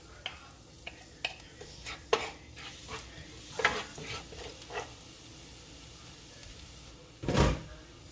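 Garlic sautes in about two tablespoons of oil in a pan, a soft background sizzle broken by scattered clicks and scrapes of stirring, with a louder scraping burst near the end.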